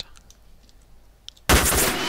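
Gunfire in the video game S.T.A.L.K.E.R. Shadow of Chernobyl, at the Agroprom location: faint clicks first, then a sudden loud sustained burst of close shooting that fills the last half-second or so.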